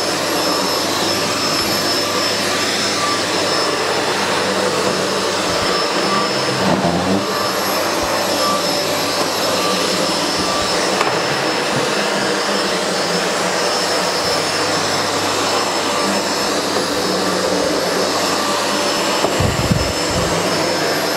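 SEBO Felix upright vacuum cleaner running continuously with a loud, steady whining motor hum, close by, with slight shifts in tone as it is pushed across the floor.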